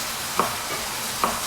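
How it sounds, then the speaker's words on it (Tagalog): Scrambled eggs and sausage fry in a pan in a home kitchen. A soft, steady sizzle runs underneath as a utensil clinks against the pan twice. "Nagluto lang siya ng itlog."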